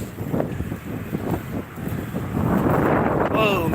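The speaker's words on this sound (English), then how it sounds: "Oh, man, she's windy out today." Strong wind buffets a microphone outdoors, a steady rough roar with gusting surges that grows louder toward the end, with a faint higher whine near the close.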